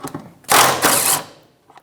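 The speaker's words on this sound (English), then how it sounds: "that's a 14mm socket. I'm just going to spin them right out." A ratchet driving a 14mm socket to spin out the center driveshaft carrier bearing mounting bolts on a 2013-2018 Toyota RAV4 2.5L L4, a close burst of fast clicking lasting under a second with brief pauses.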